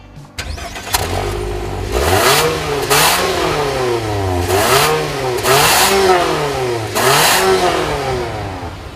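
A 2014 Nissan Altima engine revs hard to redline in neutral repeatedly, pitch climbing and falling in several loud surges, with no one speaking.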